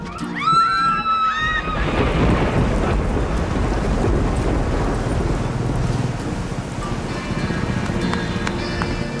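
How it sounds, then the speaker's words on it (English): Heavy rain pours down in a super typhoon with sustained winds well above 200 km/h, a loud steady roar beneath rolling thunder that fades into a constant drenching wash. "It's a super typhoon, and that means sustained winds well above 200 kilometers per hour."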